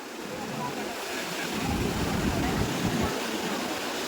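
Sea waves wash up onto a sandy beach with a broad, rolling rush that swells and recedes, heard near under gusty wind noise and occasional voices.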